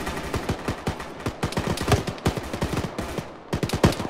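Rapid gunfire in the ArmA military game, dense bursts of automatic shots crackling in quick irregular volleys, fairly close and continuous.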